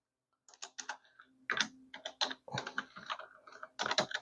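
Fingers type text on a computer keyboard, a near and fairly quiet patter of key clicks in short uneven bursts with a few brief gaps.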